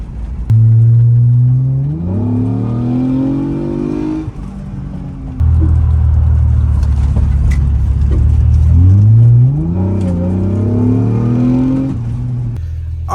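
A car fitted with a newly installed transmission cruises along, its engine note droning steadily and rising in pitch through repeated accelerations, loud and close throughout with no talk.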